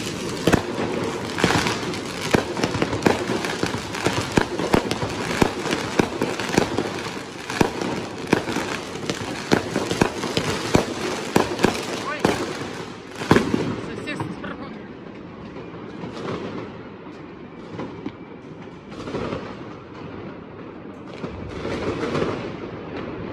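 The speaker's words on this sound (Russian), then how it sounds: "В тумане от дыма, от этих бабахалок." Fireworks and firecrackers go off over Berlin on New Year's night: a dense, continuous crackle of bangs and pops, with sharper cracks standing out in the first half before it eases into more distant, scattered bursts.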